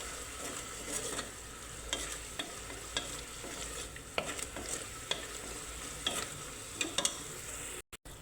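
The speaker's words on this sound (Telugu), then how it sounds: "సాల్ట్ వేసుకున్నాక ఇలా కలుపుకోవాలి." Spinach and salt are stirred in a pan over a steady soft sizzle, with a utensil clicking and scraping against the pan at irregular intervals, quiet and close, with no talk.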